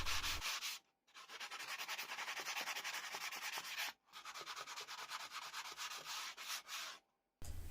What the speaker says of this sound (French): mais avec un petit coup de ponçage ça devrait être pas mal.